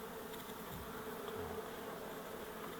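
Honeybees buzz in a dense, continuous drone around an opened hive frame, steady and close with no voices.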